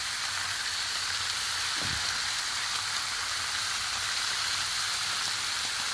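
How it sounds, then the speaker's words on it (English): Sausage sizzles on a Blackstone griddle, a constant loud frying hiss filling the whole stretch, close by, with one brief low knock partway through and no talk. "All sizzling good here."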